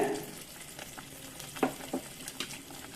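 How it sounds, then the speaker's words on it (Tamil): An onion-tomato masala paste for an anchovy fish curry fries quietly in oil, with a soft continuous sizzle and a few sharper scrapes as it is stirred. "எண்ணெயில் இந்த மசாலா நல்லா சுண்ட வேகணும்"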